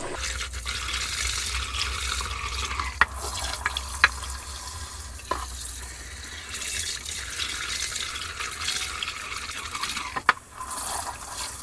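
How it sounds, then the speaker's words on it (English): Cold water runs steadily from a tap while Korean rice is swished and rubbed in it, with a few sharp knocks against the bowl. "Make sure you wash in cold water."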